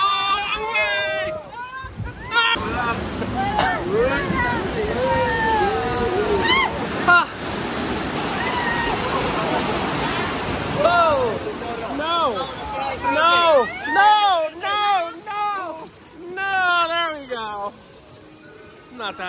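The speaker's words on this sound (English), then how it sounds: "It's the first drop on a water ride ever." Rushing water and splashing roar through most of the clip on the first drop of a water ride at Walt Disney World, while excited voices shout and scream over it, easing off toward the end.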